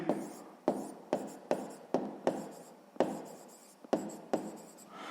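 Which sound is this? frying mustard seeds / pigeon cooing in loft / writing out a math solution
writing out a math solution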